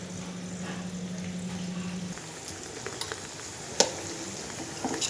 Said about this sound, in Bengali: এদিকে দিয়ে দিয়েছি গরম তেল তাতে তেজপাতা আর একটু ঘিও দিয়েছি আর শুকনো লঙ্কা